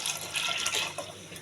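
A glass of water is poured into a pressure cooker holding lentils and spices, a short splashing gush of liquid heard up close with no voices.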